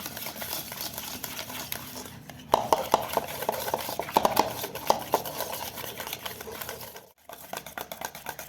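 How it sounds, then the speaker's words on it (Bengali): Cake-decorating cream is beaten in a bowl. A soft background gives way to a quick, rattling burst of whisking clicks and taps for a few seconds, then fades back to a quieter hiss, heard close. "আবারও আমি ভালো করে বিট করে নেব।"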